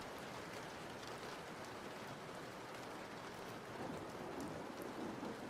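Steady, dense rain pouring down continuously, a full hiss of drops on surfaces with no pauses and no voices.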